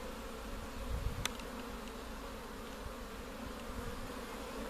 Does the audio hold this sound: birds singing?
no